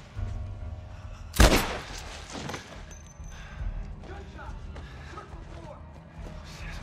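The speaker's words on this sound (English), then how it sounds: "Gunshots!" Gunfire in The Last of Us Part 1 video game: one loud, sharp shot near the start, then a fainter crack and scattered thuds over steady background ambience.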